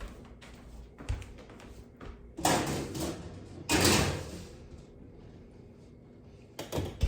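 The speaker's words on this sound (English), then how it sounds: "Open my oven door." A kitchen oven door is opened with a few clunks and thuds, then a couple of louder bursts of clatter and rattling, fairly close, amid quiet room noise.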